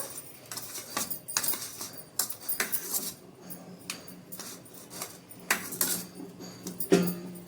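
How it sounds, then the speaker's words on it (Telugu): A spoon stirs a papad mixture of soda and salt in a bowl, up close, giving a steady run of metallic clinks and scrapes with no talking. "మనం వేసిన సోడా ఉప్పు ఇవన్నీ బాగా కలాలి వీటికి అందుకనేసి ఒక స్పూన్ తీసేసుకొని"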